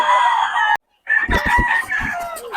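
A Sweater-bloodline gamefowl rooster crows loudly and close, breaking off abruptly before a second burst of crowing and clucking follows.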